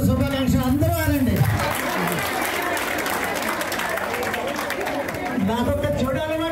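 Crowd applause at an International Women's Day celebration held by a women's walkers club in Madhavadara, Visakhapatnam: dense, steady clapping fills the room, with a speaking voice briefly over it at the start and again near the end.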